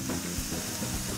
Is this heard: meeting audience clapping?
no